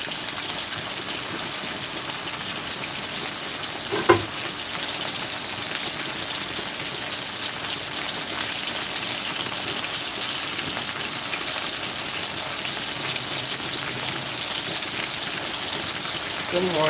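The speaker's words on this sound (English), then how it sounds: "Turn the fire. Yeah, the better TV kitchen never have a failure. He said, turn the fire way up. Up. Yes, ma'am. I want it to quick fry" Chicken quick frying in hot oil over a high flame, a steady broadband hiss and crackle running the whole time with one brief knock partway through.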